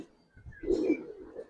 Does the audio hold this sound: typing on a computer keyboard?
no